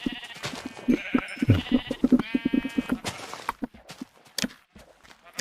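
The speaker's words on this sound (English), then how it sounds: "Oh, sorry, sheep." Several sheep bleats from Minecraft, clear and close, with a short spoken word and a few clip-clop footsteps between the calls.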